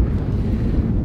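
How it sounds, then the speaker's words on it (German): Strong wind buffets the microphone on a windy Sardinian coastline near San Teodoro, a steady, loud low rumble with gusting swells and no voices. "Ich hoffe, man hört mich überhaupt, weil es ist so windig hier wieder"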